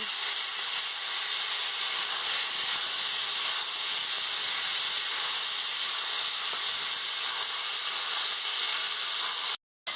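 Vegetables for a raw tamarind sour dish hit hot oil tempered with dry red chillies, giving a steady loud close sizzle and hiss that runs without a break, cutting out sharply for a moment near the end.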